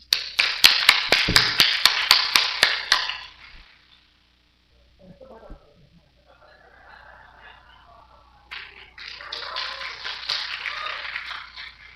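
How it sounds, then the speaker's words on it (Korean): Audience at a Chinese-language gospel evangelistic meeting bursts into dense, loud applause for about three seconds, falls quiet with faint murmuring, then claps again more softly toward the end. "박수 칩시다."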